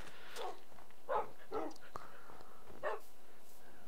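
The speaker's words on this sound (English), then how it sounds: "Quite a lot of dogs around here actually." Several dogs bark in the Minecraft Feed The Beast video game, with four short bark bursts scattered over a few seconds at moderate volume against a quiet background.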